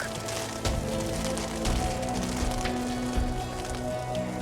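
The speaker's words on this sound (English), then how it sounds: "Soon hail came down on the garden." Hail falls on a garden as a story sound effect, a dense continuous patter of small hits with a few louder knocks, even and steady.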